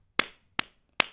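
Three sharp, separate hand claps at an even, unhurried pace, each fairly close and crisp, with quiet between them and no voices.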